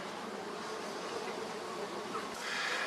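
Russian honey bees swarm around an apiary hive, a steady dense buzzing that fills the whole stretch and swells a little louder near the end, with no voices.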